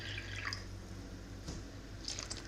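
Faint trickling and dripping of cold water splashing into a bowl, quiet and brief, with small splashy bursts and no talking.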